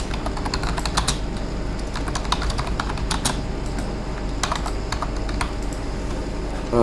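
Keys clack rapidly on a computer keyboard as a web address is entered, a fast, close, uneven patter of crisp taps with short pauses and no talking.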